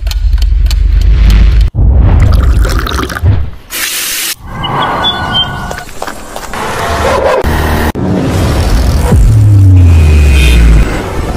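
Vehicle driving in the mobile battle royale game BGMI, with a continuous loud engine roar and rumble that is broken by brief cuts and bursts, plus a rising low engine tone near the end.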